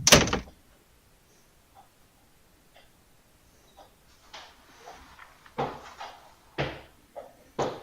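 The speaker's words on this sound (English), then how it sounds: "Set in the base of the lighthouse was a watertight bronze door." A heavy watertight bronze door set in the base of a lighthouse: a loud slam opens the clip, then silence broken by soft taps, followed by several sharp thuds and clanks at irregular intervals, with no voices.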